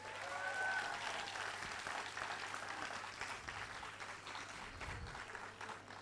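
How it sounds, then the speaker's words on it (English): Sustained applause from an audience at a medical sciences faculty pinning ceremony, steady and fairly loud throughout with a dense crackle of many hands and no talking over it. "congratulate yourself by giving yourselves a round of applause"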